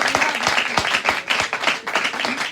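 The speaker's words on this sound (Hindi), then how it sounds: "आज जोरदार तालियां बजाने के लिए।" A church congregation bursts into loud applause, sharp, close claps in an uneven, lively rhythm that stays strong for the whole couple of seconds.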